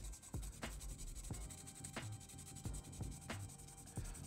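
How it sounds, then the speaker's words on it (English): Stiff brush scratched hard across a painted RC car body, chipping paint over a hairspray weathering layer; steady close rasping with sharper strokes roughly every half second, no voices. "it's going to take 10 to 20 seconds of scratching wildly with the brush before you start to notice some paints chip off"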